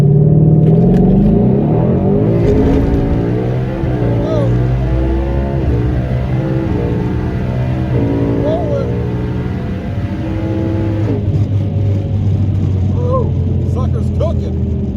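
A 1000+ HP twin-turbo Ford Mustang accelerates hard, its engine note climbing through repeated gear rises, loud and continuous under steady talk from people in the car.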